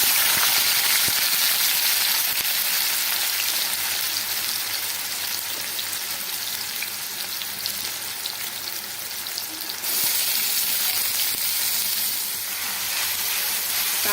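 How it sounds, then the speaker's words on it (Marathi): Chopped onion and tomato fry in hot oil in a kadai on a gas stove, giving a loud, steady sizzle that rises briefly partway through as the pieces are stirred. "गॅसवर कढई ठेवून यामध्ये मी तेल ॲड करून घेतलेले आहे आणि आता यामध्ये आपण फोडणीसाठी कांदा टोमॅटो हे टाकून घेणार आहोत"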